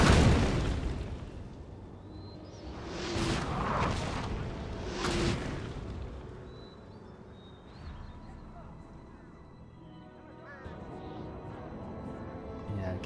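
Heavy cannon fire booms out during a Napoleon: Total War battle, with two big bursts around the middle and rumbling battlefield noise filling the rest, while voices talk throughout.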